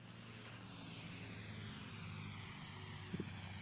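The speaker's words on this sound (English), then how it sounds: "Beautiful, beautiful, beautiful aircraft, the Lancaster." An Avro Lancaster warbird flies overhead at an airshow, its propeller engines giving a steady, distant low drone that holds evenly throughout, with a brief louder bump near the end.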